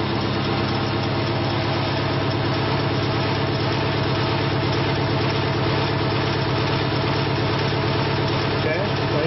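An electric vehicle motor on a test rig spins at 500 RPM, giving a steady, even mechanical hum with a low rumble that holds constant the whole time.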